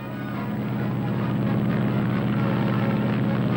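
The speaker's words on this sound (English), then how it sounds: "when the barrier went up in Suffolk, England, only 20 aircraft took off" A 1930s propeller airliner, such as a Douglas DC-2, roars as it takes off from Suffolk, England at the start of an international air race, a steady, loud engine drone building slightly in strength with no voices.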